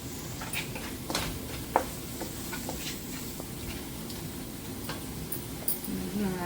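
Curry leaves frying in ginger garlic paste for pepper chicken: a soft, steady sizzle runs throughout, with occasional light pops and stirring taps, fairly quiet and close.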